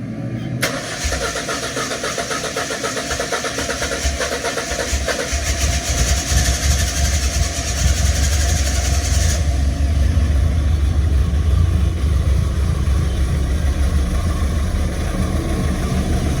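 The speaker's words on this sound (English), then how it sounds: "I'll give it a quick try now, see if it starts. This is cold start." A Ford Escort XR3i with a rough-running engine turns over and fires on a cold start with no throttle, then settles into a loud, steady idle in a carport that continues for the rest of the clip.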